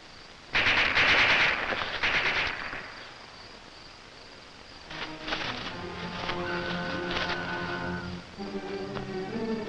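Rapid bursts of gunfire in a war film crackle loudly for about two seconds, then give way to quieter rustling and a swelling, sustained musical score.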